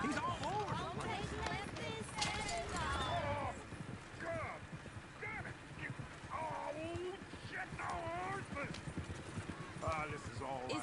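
Horse hooves clip-clop at a run in the Red Dead Redemption 2 video game, a quick drumming rhythm that carries through the whole stretch beneath lively voices talking over it.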